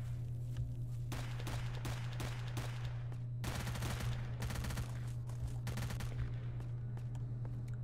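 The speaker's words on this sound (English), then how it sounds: "Who's shooting? And why?" Bursts of gunfire from S.T.A.L.K.E.R. Shadow of Chernobyl ring out near a compound, with repeated volleys of rapid shots in clusters over a steady low hum.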